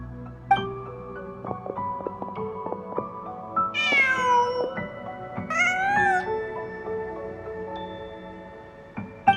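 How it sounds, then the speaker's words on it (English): A cat meowing in the video game Genshin Impact, two drawn-out rising meows in the middle over a layer of game music, clear and close with no talking. "Just a cat."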